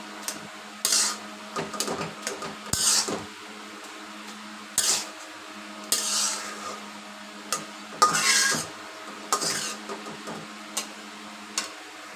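Egg and snake gourd being stirred and broken up in a pan, irregular bursts of a utensil scraping and clinking against the metal every second or two, close and fairly quiet.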